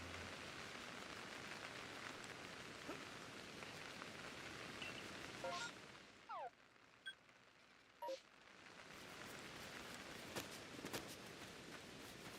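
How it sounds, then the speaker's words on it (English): Rain falls steadily in the video game Pokemon Legends: Arceus, a soft continuous hiss with a few brief clicks and a short quieter lull partway through. "it's raining"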